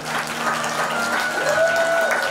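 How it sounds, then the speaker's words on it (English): Applause for an anniversary couple at a qawwali night, a steady wash of clapping with a sustained tone running through it, no talking. "Round of applause for the anniversary couple, guys."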